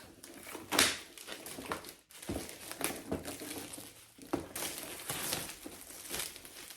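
Max & More advent calendar packaging being unwrapped up close, crinkling and rustling in irregular bursts with a few sharper tearing crackles and brief pauses.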